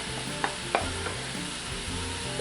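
Peppers, onions and celery go back into a hot cast iron pot for sausage corn soup, a steady sizzle with a couple of sharp clanks near the start, brief and close, no one talking.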